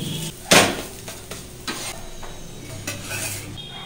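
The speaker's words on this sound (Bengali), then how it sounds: "এটা একটু তেলের মধ্যে ভাজা হচ্ছে" Paratha fries in hot oil in a pan until it is well browned. A soft, steady sizzle runs underneath, broken by a few sharp scrapes and knocks of a spatula.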